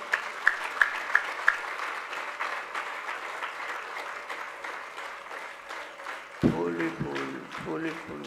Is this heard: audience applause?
yes